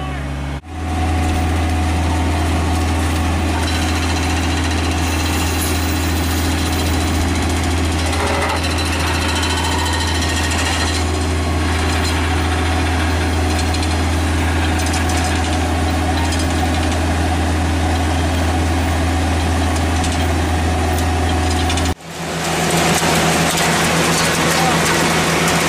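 Korvan 7420 blueberry harvester engine running loud and steady while shaking and harvesting pruned Montmorency cherry trees, a constant deep droning hum with rattling machinery, briefly cutting out near the end, with talk faintly beneath.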